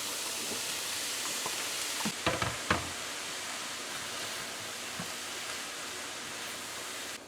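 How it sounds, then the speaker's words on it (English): Rice and scallions frying in a hot pan give a steady, even sizzle throughout, with a few brief clattering stirs near the middle and no talking. "and you're gonna add your rice"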